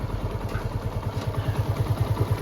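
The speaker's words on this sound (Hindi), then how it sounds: "आप इंजन की साउंड को सुन सकते हैं," A repaired Apache RTR motorcycle engine idles slowly and steadily, a close, even low thumping pulse with no knocking or rattling heard.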